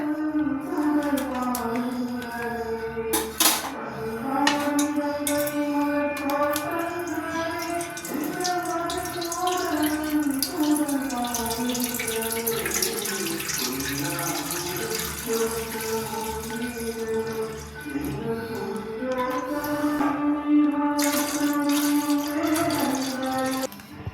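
One litre of milk poured into a pot for bread halwa makes a continuous liquid stream with a gurgling, shifting tone that runs steadily for over twenty seconds, with a couple of sharp knocks early on.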